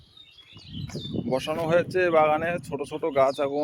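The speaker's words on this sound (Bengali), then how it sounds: "কত সুন্দর পাখির কিচিরমিচির, শুনতে ভালো লাগছে" Small birds chirp faintly in a rural jujube orchard, with a few short tweets at the start before someone talks over them for most of the moment.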